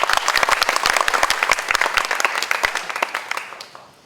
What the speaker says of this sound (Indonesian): Oke, jadi tepuk tangan dulu buat adik.